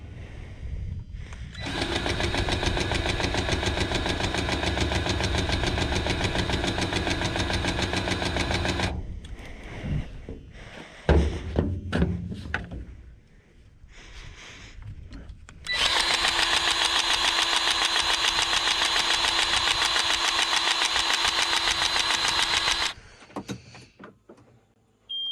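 A loud tractor engine runs steadily, cuts out briefly amid clunks and sputters, then roars back up and runs again before stopping.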